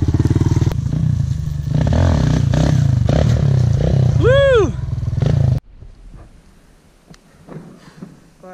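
Motorcycle engine held at steady high revs during a wheelie, loud and close for about five seconds with a brief revving rise, then cutting off abruptly to quiet background noise.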